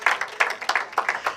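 Scattered clapping from a church congregation, bursts of a few claps at a time rather than full applause, fairly close and moderate in volume.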